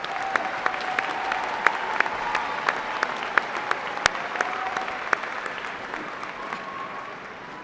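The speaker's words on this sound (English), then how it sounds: "another round of applause for the College of Health," An audience at the UW-Green Bay spring commencement ceremony applauds, giving a steady sustained clapping from a large hall with a few sharp individual claps standing out.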